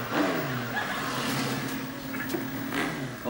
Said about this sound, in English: Oh, that's what I call a motorbike.